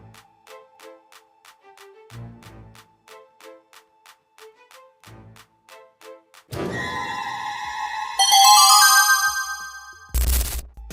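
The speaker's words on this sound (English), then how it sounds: "The traps are merciless, so answer the phone as quickly as possible." A phone rings in the PokeXgames Halloween maze video game: a repeating electronic ringtone with short beeping pulses and pauses, followed by a burst of bright chiming tones and a sharp final thud.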